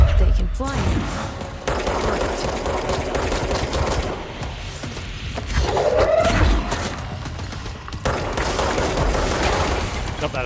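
Sustained gunfire from the video game Control fills the scene, dense bursts of shots running almost continuously with a brief heavier swell midway, loud and close, with faint speech-like sounds mixed in.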